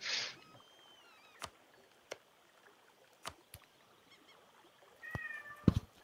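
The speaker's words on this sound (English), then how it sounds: "I hear a cat." A cat meows faintly at the start, then again louder near the end, with scattered clicks and taps in between.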